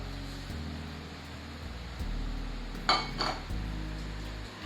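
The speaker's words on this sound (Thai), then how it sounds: "ตีจนกว่าจะเข้ากันนะคะ" Cake batter with sugar being beaten in a bowl for a milk cake, a steady whirring mixer hum that changes pitch in steps, with a few brief clinks against the bowl midway.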